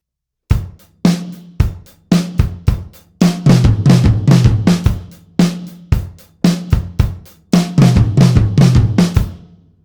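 A drum-kit groove with left-hand flams worked into the beat, a steady pattern of punchy hits with denser flurries of strikes every couple of seconds, close and loud with no talking.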